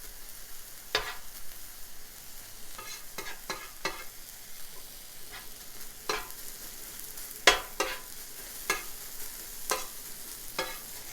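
Onions caramelize in a pan for a Philly cheesesteak, giving a quiet, even sizzle punctuated by a dozen sharp spatula scrapes and taps spread irregularly throughout.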